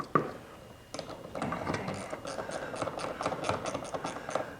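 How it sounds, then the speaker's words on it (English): A 3/8 wrench ratcheting on a cable of a BAL Accu-Slide trailer jack, faint rapid clicking strokes in a steady metallic rhythm after a single sharp clank at the start, with no talking. "I'm adjusting it with my 3/8 wrench to keep this cable from spinning while I'm wrenching on it."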